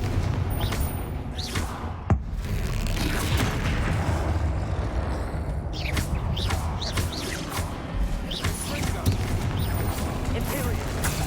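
Bombarda and Confringo spell explosions in Hogwarts Legacy: repeated booming blasts and crashing bursts over a dense, rumbling battle din, with a voice calling out between the impacts.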